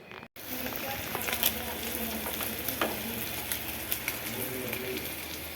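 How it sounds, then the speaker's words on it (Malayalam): Fish sizzles and crackles steadily in hot oil, fried ahead of making a fish curry, with scattered pops and clicks over a constant close frying hiss and a faint voice in the background. "കുറച്ച് മീൻ ആദ്യമേ അത്യാവശ്യത്തിന് പെട്ടെന്ന് വറുത്തെടുക്കുക"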